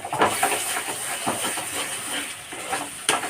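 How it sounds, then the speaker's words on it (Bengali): Spice paste for Bengali prawn malai curry sizzling under a lid on a high flame, a steady close hiss with occasional soft knocks and stirs, no voices. "ঢাকা দিয়ে এটাকে ভালো করে কষাবো হাই ফ্লেমে, যতক্ষণ না মশলা থেকে তেল বেরিয়ে যাচ্ছে"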